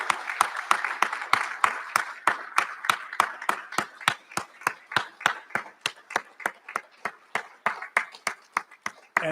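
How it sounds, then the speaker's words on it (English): Slow, evenly spaced rhythmic clapping from an audience at a graduation recognition ceremony honouring faculty, about three crisp synchronized claps per second ringing through a large room and continuing steadily. "give them a rousing round of applause for all the work that they have"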